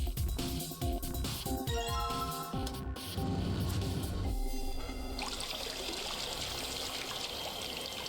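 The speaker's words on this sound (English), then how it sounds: "Right, let me get the basic water out." Water pouring out of a vessel in the Zero Escape: Virtue's Last Reward puzzle game, a steady trickling stream that runs for several seconds and then shifts to a brighter, hissier flow.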